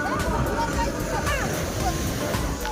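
Sea waves surging on a full moon day during the Kartik Purnima boat festival, a steady windy roar of surf with crowd babble and voices mixed in.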